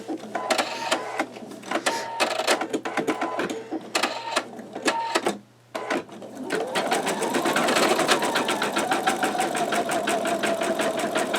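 Stitching out a design at medium speed, an embroidery machine with a MagnaHoop magnetic hoop chatters in bursts of quick needle strokes, pauses briefly, then settles into a steadier, denser run, close up with no talking.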